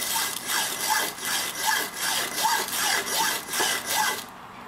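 A hacksaw blade cuts with about eight even back-and-forth rasping strokes, close and loud, with no one talking.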